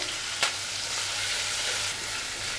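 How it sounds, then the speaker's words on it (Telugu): Okra sizzles in a pan with a steady, soft hiss of frying, broken once by a brief clink near the start. "ఇప్పుడు కొంచెం ఫ్రై అవ్వాలి ఇప్పుడు ఫ్రై అయిపోయింది కదా"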